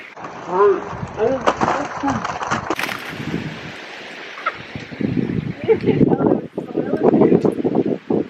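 Water mixed with loose soil is dumped out of a pot onto the ground in the woods outdoors in winter, splashing in rough bursts near the end after close talking.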